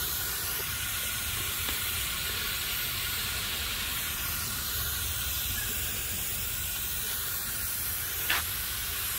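Water sprays steadily onto wood ash swept into the cracks between pavers, a continuous close hiss with a brief louder burst near the end and no talk.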